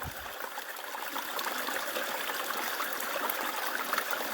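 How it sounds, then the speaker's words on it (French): A small stream runs through a frosty winter forest in the Morvan, a faint, steady trickling babble with no talking. "Joli petit ruisseau."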